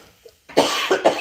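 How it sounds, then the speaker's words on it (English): A single person coughs in a short, harsh burst of several hacks, close and loud, after a brief quiet moment. "So sorry, I don't mean to cough on you guys."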